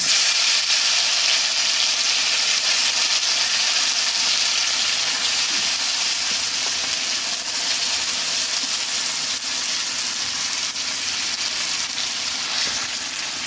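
Chicken meat frying in hot oil tempered with whole bay leaves and whole garam masala, a steady, dense sizzle that holds loud and close throughout with no pauses.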